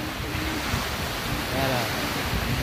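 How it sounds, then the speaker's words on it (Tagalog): Steady rush of ocean surf washing onto a shore near Infanta, with wind buffeting the microphone throughout. "Dito na kami sa dagat, oh."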